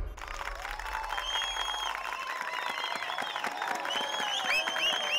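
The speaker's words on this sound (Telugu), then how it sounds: "ఏదో అర్థమైనట్టే చప్పట్లు కొడుతున్నారు యాదవులు." A group of villagers claps in a Telugu film scene. The applause is a steady, dense patter mixed with crowd noise and tonal music throughout.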